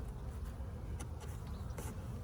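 Honeybees around a hive, a steady dense buzzing hum that fills the whole stretch at an even level, close and continuous, with a few brief clicks over it.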